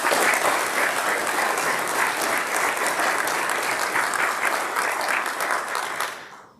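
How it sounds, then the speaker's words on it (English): Sustained applause from an audience at a military change of responsibility ceremony at Fort Belvoir, steady and dense clapping that fades away near the end. "So let's give them a warm round of applause."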